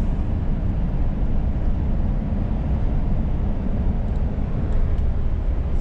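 A diesel truck engine on a long-haul road trip to Irkutsk gives off a steady, low, droning rumble, continuous and even throughout with no voices.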